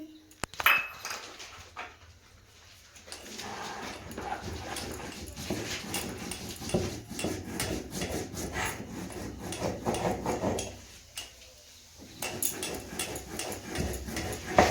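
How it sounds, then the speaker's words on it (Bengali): Poppy seeds being ground into a paste by hand for aloo posto, a steady rubbing, rasping scrape close by that runs continuously, pausing briefly near the end before resuming. "পোস্তটা বেটে নিচ্ছি।"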